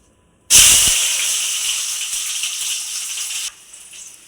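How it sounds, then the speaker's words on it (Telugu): Chopped onion pieces drop into hot oil in a pan, giving a sudden loud hiss that settles into a steady sizzle for about three seconds, then eases to a quieter fry, close and without talking. "నెక్స్ట్ మనం కట్ చేసుకున్న ఉల్లిపాయ ముక్కలు వేసుకోవాలండి."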